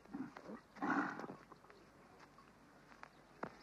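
Cattle grazing in marshland pasture inside a national park low and moo, one drawn-out call standing out near the start before fading into quieter rustling and faint distant sounds, with no speech.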